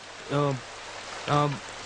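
Steady rain hisses evenly through a Telugu film scene, with two short, voice-like tonal calls rising briefly above the downpour.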